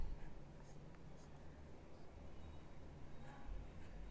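Sailor 1911 fountain pen with a medium steel nib writing on paper, a faint continuous scratchy whisper of strokes over a low background hum, steady and close with no talking.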